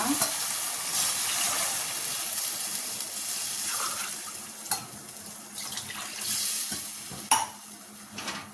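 Soft stirring and swishing of rice in water inside a pot for vegetable biryani, with occasional scrapes and clinks against the metal, close and fairly quiet.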